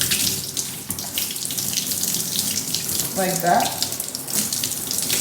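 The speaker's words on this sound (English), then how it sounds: "Let's first rinse the hair thoroughly." Running water rinsing natural hair, a steady close splashing flow like a tap, with a voice speaking briefly under it.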